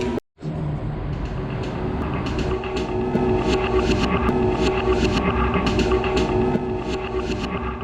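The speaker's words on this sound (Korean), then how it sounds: "BMW가 전기차 사운드를 개발을 하고 있는데요" A synthesized BMW electric-car drive sound: a steady, layered tonal hum that builds after a brief silence at the start and holds at an even level, with faint ticking over it.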